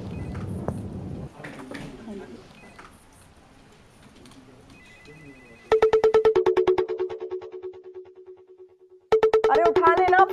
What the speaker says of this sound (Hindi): अरे उठा लेना फोन जल्दी।